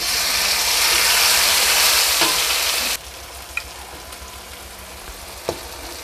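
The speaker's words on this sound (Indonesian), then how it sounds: "Oke, teman-teman, jadi ini bumbu yang sudah dihaluskan Mbak Sus, langsung kita tumis ke sini ya." Ground spice paste hits a hot pan with a loud, dense sizzle for about three seconds, then settles into a quieter frying hiss broken by a few light clinks of the utensil, close up with no talking.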